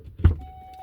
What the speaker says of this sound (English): The wind caught the door.